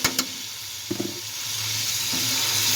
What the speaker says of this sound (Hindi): अब हम मसाले को अच्छी तरह 2 मिनट तक जो है अच्छी तरह फ्राई करेंगे